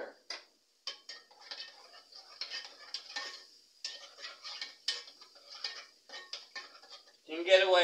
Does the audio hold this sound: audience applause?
no